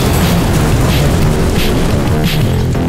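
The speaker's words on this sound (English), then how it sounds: "Explosion!" Low-budget movie explosion effect, a loud sustained rumbling boom with crackling debris noise that keeps roaring for the whole stretch.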